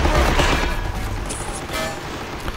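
Dense game-battle gunfire from an MG in Men of War: Assault Squad 2, a continuous loud fusillade of bursts and booms filling the scene, close and harsh.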